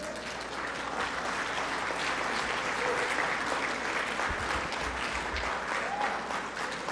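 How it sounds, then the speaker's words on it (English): Audience clapping fills the whole stretch at a presidential dialogue forum, a dense, steady wash of applause from a large crowd, fairly loud and continuous with no speech over it. "I don't know if the clapping is just from my family or not"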